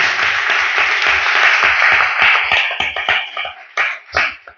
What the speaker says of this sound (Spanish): Vamos a brindarle un fuerte aplauso a Dios por este espacio